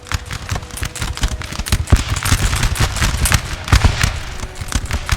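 Dense musket volleys crackle through a Napoleon: Total War battle, sharp overlapping reports firing nearly continuously and close, with heavier bursts standing out amid the constant rattle.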